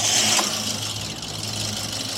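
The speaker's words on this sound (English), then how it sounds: "You want me to start the engine?" The fully rebuilt engine of a Proton Iswara rally replica runs at a steady idle nearby, a low continuous rumble with a brief sharper noise near the start.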